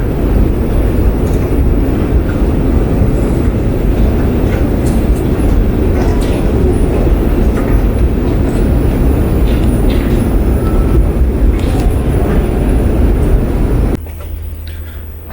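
A Soviet-era Tbilisi metro train rolls through the system, a loud, continuous rattling roar with metallic screeching that runs for about fourteen seconds before dropping abruptly to a quieter hum.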